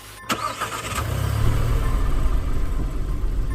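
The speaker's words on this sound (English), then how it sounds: "I got in and started the engine." A car engine cranks with a few sharp clicks and catches, then settles into a loud, steady low rumble at idle.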